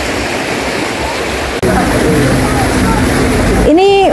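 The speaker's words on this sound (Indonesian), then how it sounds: "mobil sedan ini ternyata juga masih bisa off-roadan nyebrang sungai di Bedengan ini" A car, a small sedan, crosses a shallow rocky stream at Bedengan campground in Malang, Indonesia, with loud continuous rushing water and engine noise throughout, plus a brief rising tonal sound near the end.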